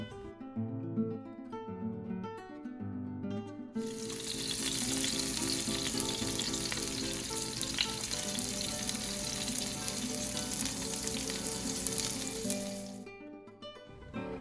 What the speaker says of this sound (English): we are going to start off by rendering the fat for about 30 seconds before laying it flat on the skillet